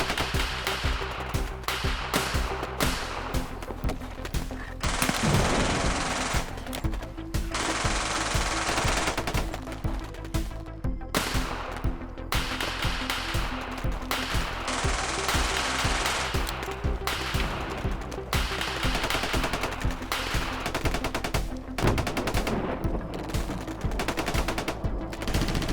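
Sustained automatic gunfire crackles through a war-film battle against a shark, dense bursts layered over a heavy music and effects bed, loud and continuous with brief gaps.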